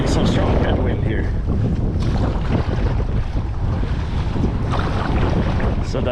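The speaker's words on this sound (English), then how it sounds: "Right now I'm getting some strong headwind here" Strong headwind buffets the microphone while kayaking on a river through Vilnius, Lithuania, in an inflatable Advanced Elements Packlite kayak, a loud continuous rumbling roar with gusty bursts and faint water splashing underneath.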